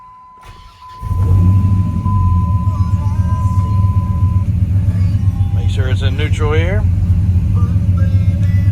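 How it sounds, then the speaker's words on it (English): A heavily modified, dyno-tuned Dodge Viper RT/10 super truck with a stick shift cranks and fires about a second in, then holds a loud, close, steady V10 rumble while someone talks over it. "Let's fire it up and let this baby roar."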